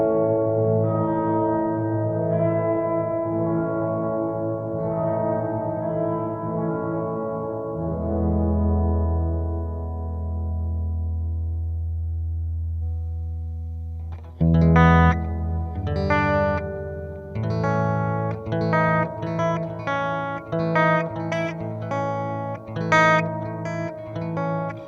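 Sonicake Pocketmaster pedal on its dark Ocean reverb setting, a sustained guitar chord washing out into a long, muffled tail, then a burst of new picked notes with a thick, soft-edged ambience, loud and without talk.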